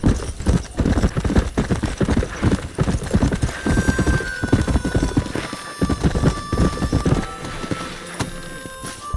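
Horse hooves clip-clop rapidly and steadily in the video game Red Dead Redemption, with an occasional whinny and faint game ambience behind the continuous gallop.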